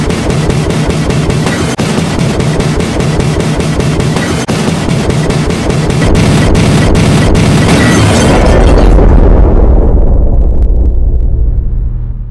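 Rapid crackling bursts give way to a deep, rolling explosion rumble that swells and then fades, loud and close.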